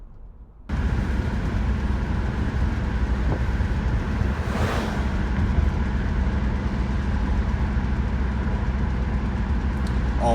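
A 1975 AMC Gremlin X with 15K original miles cruises down a straightaway, its engine a steady low drone under rushing road and wind noise from inside the cabin.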